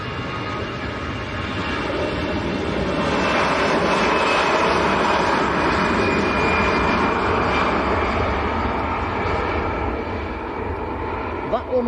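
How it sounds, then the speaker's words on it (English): An EasyJet Airbus A320 jet rolls for takeoff at Manchester Airport, its engine roar swelling to a loud, sustained broadband rumble and holding steady near the end. "next to roll, EasyJet A320"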